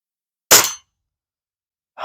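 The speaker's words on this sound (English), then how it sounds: "I heard a little ting down there." An air rifle pellet strikes a distant metal boar target, giving one sharp metallic ting followed by a brief decay, with the start of another hit at the end.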